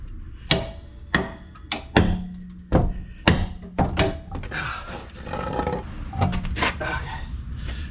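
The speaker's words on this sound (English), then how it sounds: "One clean shot should get it with the sledge." Heavy sledgehammer blows strike a 2009 Chevy Tahoe wheel to knock it loose, about ten loud metallic thunks in an irregular rhythm, some ringing briefly, close by with shop noise between hits.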